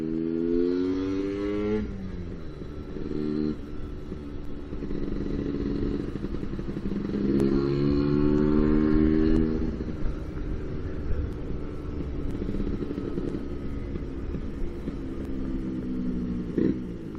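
A Lambretta scooter engine under way, a steady buzzing two-stroke drone that rises and falls with throttle changes and gear shifts, fairly close and alone with no talk.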